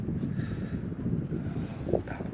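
Wind blows steadily at sea aboard a sailboat off southern Sardinia, a constant low roar with microphone buffeting and a faint brief rise near the end.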